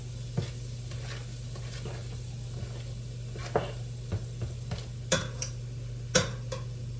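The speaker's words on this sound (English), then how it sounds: "I have my butter melting in my pan, so I'm going to go ahead and get the onions and the garlic in here along with the mushrooms." Onions, garlic and mushrooms cooking in melted butter in a pan, a steady soft sizzle with occasional light clicks and scrapes of stirring, close and quiet.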